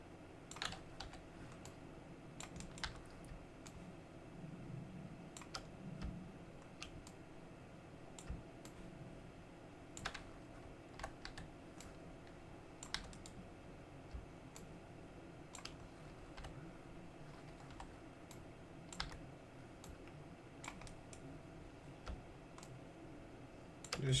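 Computer keyboard keys tapped in scattered bursts and single presses during 3D modelling work, quiet and close, with a faint steady hum underneath and no talking.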